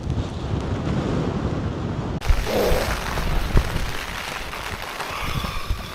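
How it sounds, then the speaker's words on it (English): Wind gusting around a campsite on a rough wet night, a loud blustery roar buffeting the microphone, with a sudden shift in tone partway and a few bumps over the rumble. "The wind's getting up now, like."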